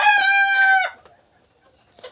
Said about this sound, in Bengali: আমার এখানে মুরগি আছে